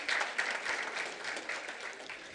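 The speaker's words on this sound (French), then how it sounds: "Merci pour les applaudissements avant." Audience applause at a youth event on stage, a fairly faint round of clapping from a modest crowd, steady hand claps tapering slightly over a couple of seconds.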